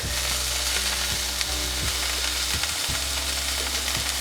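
A smash burger sizzles steadily on a hot cooking surface, a loud continuous frying hiss with a low hum and faint periodic ticks underneath, no talking.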